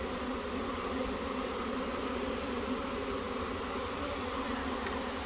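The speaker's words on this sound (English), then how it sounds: "we've got a couple hundred bees on the frame so far." A swarm of honey bees buzzes on a frame, a dense, continuous hum that stays steady and close, with no talking.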